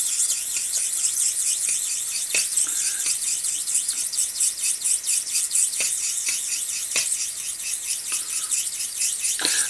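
A straight razor is honed in circles under medium pressure on a wet Thuringen stone, making a continuous high, hissing scrape with a steady circular rhythm and occasional sharper ticks, close and fairly loud.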